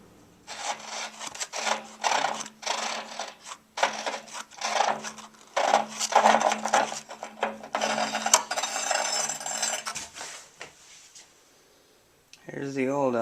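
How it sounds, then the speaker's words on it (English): Rhythmic grinding and scraping as a wrench and screwdriver twist an old water heater element out of its tank, in repeated rasping strokes at close range, with someone speaking toward the end. "Put a screwdriver in there and twist it right off."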